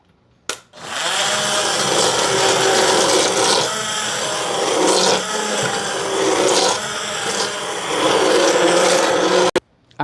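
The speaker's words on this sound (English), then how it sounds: "we are now going to try to use the immersion blender instead of a real blender" A loud, steady whirring motor of an immersion blender blending wild mushroom soup close up for several seconds, starting and stopping abruptly.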